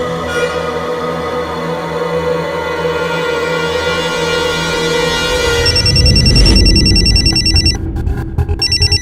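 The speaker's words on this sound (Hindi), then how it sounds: "वो तुम्हारा फोन रिंग कर रहा था" A mobile phone ringtone chimes loudly and continuously in a repeating melodic pattern, close by, before breaking off into choppy fragments near the end.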